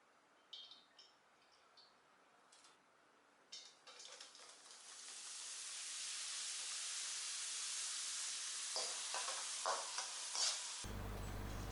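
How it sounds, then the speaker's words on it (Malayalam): Papadams deep-frying in hot oil for a spicy Kerala-style papad stir fry, a steady close sizzle and bubbling hiss that swells and holds, with a few clinks and stirs early on and an abrupt cut near the end. "ഇതേപോലെ തന്നെ ബാക്കിയുള്ള പപ്പടം വറുത്തെടുക്കണം. കുറച്ച് വീതം മാത്രമേ എണ്ണയിലിട്ട് വറുത്തെടുക്കാവുള്ളൂ."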